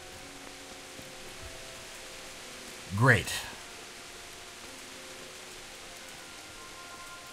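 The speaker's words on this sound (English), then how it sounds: "Of course it's raining." Steady rain hisses and patters in the medieval game Kingdom Come: Deliverance, a soft, even wash of noise that runs throughout while a voice speaks briefly in the middle.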